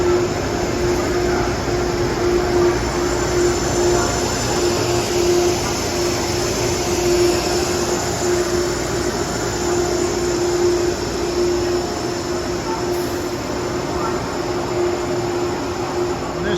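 A Genset locomotive idles on the adjacent track with its head end power running: a loud, steady engine drone with a constant hum and a broadband roar that holds evenly throughout, with no talk.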